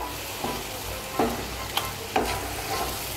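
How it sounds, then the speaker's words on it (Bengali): Potatoes and taro in a pan with added water being stirred, a low simmering bubble throughout with four soft spoon scrapes at uneven intervals, close and quiet, no voices. "জলটা আলু আর কচুর সঙ্গে ভালো করে মিশিয়ে নেব"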